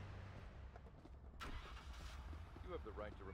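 A police car engine in the Police Simulator: Patrol Officers video game, cranking and catching into a steady low idle, mid-level in the mix, with someone talking over it.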